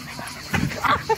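Dogs playing roughly together at a canine meetup give short yips, whimpers and a few barks close by, with some human voice murmuring in the background.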